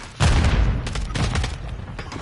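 A loud, close burst of gunfire in the Warzone video game, several heavy shots in quick succession with booming echo tailing off.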